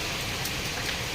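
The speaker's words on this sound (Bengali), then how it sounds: "এই যে পড়ছে এখন প্রচণ্ড পরিমাণে বৃষ্টি" Heavy rain falls at night in a brief, steady, dense hiss of drops.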